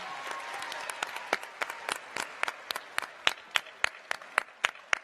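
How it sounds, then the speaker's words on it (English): An audience in a school gathering applauds, a sustained patter of many hands with sharper individual claps growing more distinct and spaced toward the end, no voices over it. "Give her a big round of applause."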